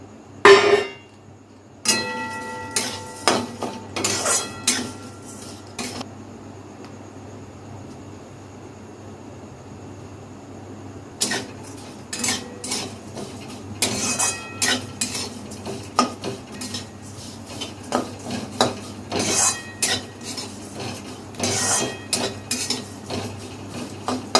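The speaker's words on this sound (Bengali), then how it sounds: "এবার সিমুইগুলো দিয়ে একটু সিমুইটা একটু ভেজে নেবো।" Vermicelli fries in ghee in a wok while a metal utensil stirs and scrapes it, giving close, repeated clinks and scrapes in bursts with a quieter pause partway through; no one speaks.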